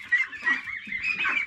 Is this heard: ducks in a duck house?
yes